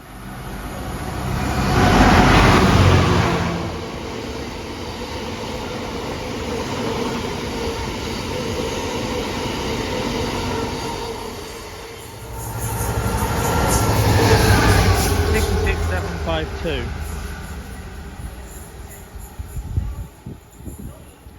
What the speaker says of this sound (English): there goes the 1409 London North Western Railway service to Crewe from London Euston